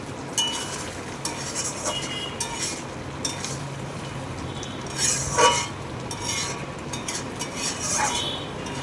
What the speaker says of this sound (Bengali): আমি এবার ঢাকনাটা খুলে আবার একটু নাড়াচাড়া দেবো।